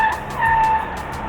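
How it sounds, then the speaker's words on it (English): A single car rolls past at moderate distance, a low broad engine and tire rumble that swells briefly in the middle and then fades, with no talking. "just heard a car."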